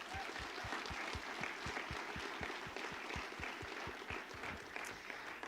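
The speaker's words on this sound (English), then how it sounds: "Let's give them a round of applause again." Audience applause at a university Three Minute Thesis competition: a crowd claps steadily throughout, a dense, even patter of many hands with no voices on top.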